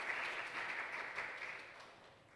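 Audience applause at a university church Wednesday worship service, a dense steady patter of many hands clapping that fades slightly toward the end.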